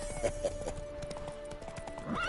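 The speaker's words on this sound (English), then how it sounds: "Spooking my horse. Roach doesn't like ghosts." A spooked horse whinnies in The Witcher 3, with clip-clopping hooves and a rising neigh near the end over a steady game-ambience drone.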